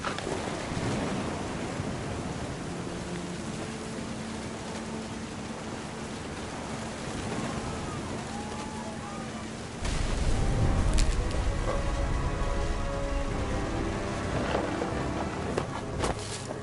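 Rain hisses in a steady broadband wash with rumbling thunder in the video game What Remains of Edith Finch, swelling louder and heavier partway through.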